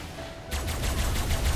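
Rapid gunfire from a firearm in the video game Ark: Survival Evolved, a dense run of sharp shots starting abruptly after a quiet half-second and continuing loud and steady to the end.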